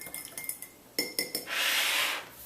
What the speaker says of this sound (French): On ajoute la levure qu'on vient brasser, il faut très bien brasser.